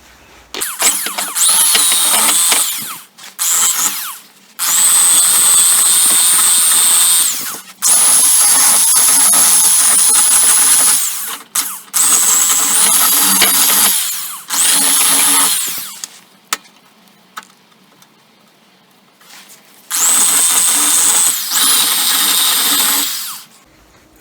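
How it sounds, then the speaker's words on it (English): An electric drill whines loudly in several long bursts, pausing briefly between runs, its pitch steady while it grinds against metal to clean it. "I've got the drill out."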